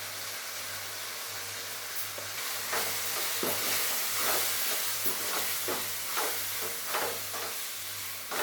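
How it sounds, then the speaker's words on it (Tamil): Masala for a fish curry, with turmeric powder and chili powder, sautéed in a pan: a steady loud sizzle and hiss with scattered crackles and spatters, close by and with no talking. "நல்லா வதக்கிடுவோம்."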